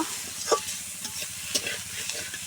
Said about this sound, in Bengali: এখন এই করলাটা নেড়ে চেড়ে ভেজে নেব